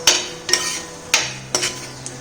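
Ingredients for a Kerala chicken roast sautéing in a pan: a soft sizzle beneath four or five sharp, evenly spaced spatula strikes and scrapes against the pan.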